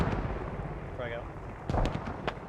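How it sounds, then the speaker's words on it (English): A frag grenade goes off during a Squad firefight, a muffled blast rising over dense rumbling battle noise, with a couple of sharp bangs following and voices speaking over the din. "Grenade!"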